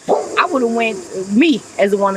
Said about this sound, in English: That's my dog, my son came and asked the dog what he barking for